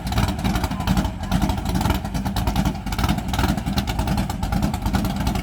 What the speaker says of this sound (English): it is windy and the car is loud too